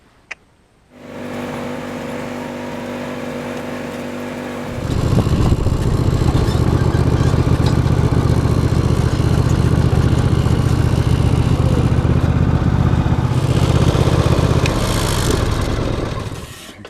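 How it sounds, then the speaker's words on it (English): A riding lawn mower engine starts up and runs steadily, growing louder as it revs and drives along toward an orchard garden, a continuous close mechanical drone. "So let's jump on the lawnmower, take it right over there."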